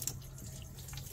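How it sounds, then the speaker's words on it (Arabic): Salt water runs steadily while washing a car's oil-and-water mixing problem, a soft continuous splash and trickle like a tap, fairly faint. "الحين قاعد اغسل، طبعا هذا الماء المالح بس للغسيل"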